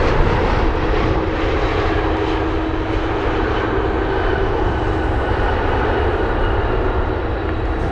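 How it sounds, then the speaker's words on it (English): A brand-new Boeing 737 MAX 8 on a delivery flight roars loud and steady at Anchorage airport's runway 15 in gusty winds, its engine noise continuous and close with no pauses. "Aircraft delivery, here we go. Brand new 737."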